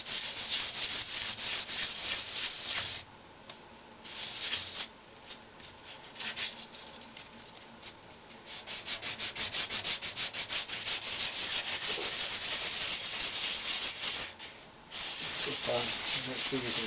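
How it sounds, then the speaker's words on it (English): Sandpaper rubbing along the grain of a turned pecan wood vase, a steady close scratchy sanding with brief pauses and changes in stroke pressure, heard on its own without talk. "you still want to make sure you go back and sand with the grain"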